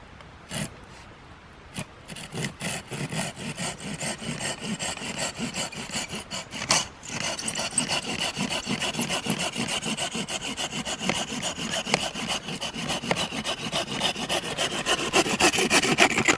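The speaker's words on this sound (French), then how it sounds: "Un petit coup de scie." A hand saw cuts steadily through wood in fast, even back-and-forth strokes, close and loud, after a few hesitant starting strokes.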